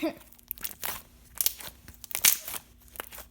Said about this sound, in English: Here's just some ASMR, just basic slime, but still ASMR.